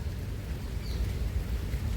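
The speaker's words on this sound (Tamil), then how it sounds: "மழை பெய்யுது கைஸ்." Rain falls in an eco park, heard as a steady, dense hiss of drops with a soft low rumble of wind against the microphone, continuous and fairly close, no voices.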